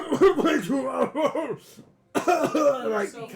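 A person makes a couple of short, cough-like vocal bursts, a voice imitating a cough, close to the listener.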